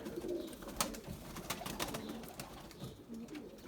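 White Candir pigeons coo softly in a coop, with low, throaty calls repeating over a faint background rustle and no speech.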